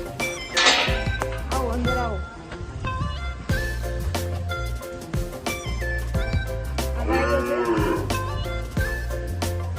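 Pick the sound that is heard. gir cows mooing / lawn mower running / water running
gir cows mooing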